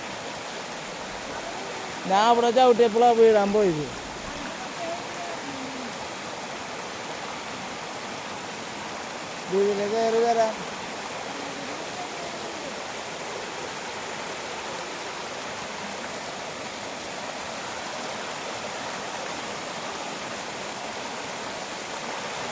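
Fast-flowing stream water rushes in a steady, broad wash throughout, loud and close, while two short bursts of conversation in Malayalam rise briefly over the continuous flow.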